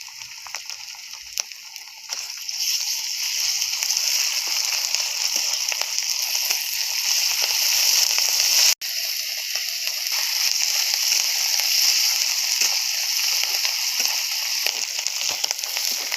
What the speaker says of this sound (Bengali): এবার দিয়ে দেবো বেটে রাখা আদা রসুন